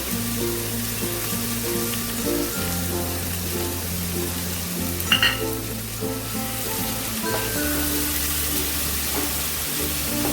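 A paste of ground mustard and poppy seeds sizzles in hot oil for a prawn and taro-stem curry, a close, steady frying hiss with a brief spatter, over soft background music.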